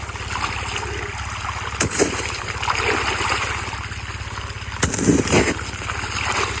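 Steady rushing flow of water with a constant low rumble, a couple of brief knocks or splashes breaking through.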